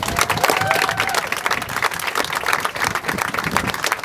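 Audience at the Uncle Sam dedication ceremony in Danbury, Connecticut claps for the mayor, a dense, steady outdoor applause from a sizable crowd lasting throughout, with no clear voices over it.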